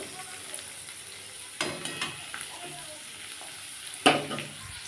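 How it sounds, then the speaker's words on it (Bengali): Chopped garlic frying in a pan for tomato chutney, a quiet sizzle with a few spoon scrapes and a sharp stirring clatter near the end. "এই রসুনটাও দিয়ে দেবো দিয়ে আমি এটাকে ভাজবো একটু লাল লাল করে ভাজবো"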